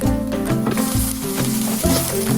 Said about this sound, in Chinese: 放大蒜、红葱头翻炒至出香味